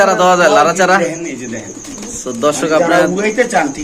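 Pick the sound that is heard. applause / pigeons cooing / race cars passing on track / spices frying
pigeons cooing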